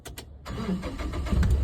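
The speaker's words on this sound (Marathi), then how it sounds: "आता कर चालू गाडी." Car engine cranking briefly with a few starter clicks, then catching and settling into a rough mid-pitched idle that grows slightly louder, heard up close inside the vehicle during a driving lesson.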